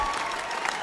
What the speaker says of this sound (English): please have a round of applause for the trumpet section